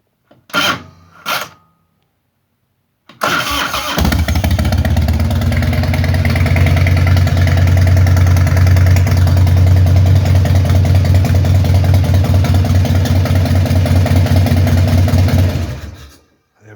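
A Harley-Davidson Heritage Softail Classic is started by jumping the solenoid switch: two short bursts, then the engine fires and settles into a loud, steady, close-up idle for about twelve seconds before cutting off.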